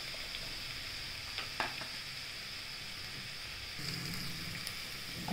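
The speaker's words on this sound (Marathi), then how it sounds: "आता हे नवलकोल आपण चिरून घेतले ते टाकूया।" Chopped kohlrabi frying in a pan for a Maharashtrian vegetable dish, giving a faint, steady sizzle with a couple of light clinks, swelling slightly near the end, and no voices.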